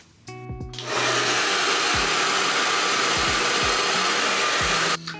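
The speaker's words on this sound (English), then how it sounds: "make sure that you blow dry each section for a few minutes" Hair dryer blow-drying braids, a loud steady close-up whoosh starting after a brief click and running several seconds before cutting off, with occasional low thumps.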